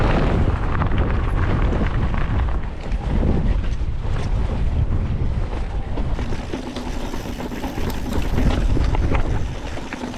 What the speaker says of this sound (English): Little crosswind, at least blowing us away from the precipice.